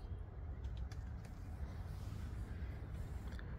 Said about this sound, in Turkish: Kuş bu. Çoğu yavru.